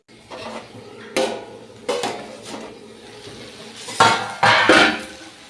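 Mustard seeds are ground by hand on a stone slab: a few separate, close rubbing strokes with short scraping bursts and quiet gaps between them.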